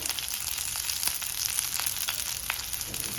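Onion, curry leaves and coarsely crushed garlic frying on high flame for a street-style mushroom pepper dry, a steady dense sizzle with crackling pops throughout, no talk.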